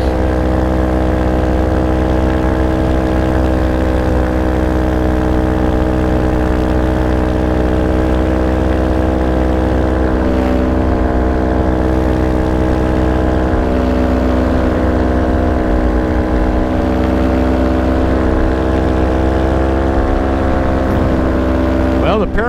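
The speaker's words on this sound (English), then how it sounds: "the paramotor seems to be running much better than it was the other day" Steady droning of a paramotor engine running in flight, a loud continuous buzz with strong even harmonics that holds its pitch for the whole stretch, with wind rushing past.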